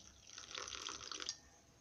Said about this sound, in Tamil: இப்போ நம்ம கொஞ்சமாக தண்ணி ஊற்றி நம்ம இதை கலக்கிக்கலாம்.